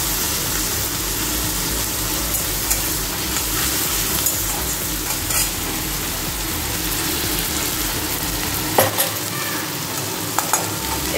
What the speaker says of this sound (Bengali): সব কিছু দিয়ে এখন একটু ফ্রাই করে নেব।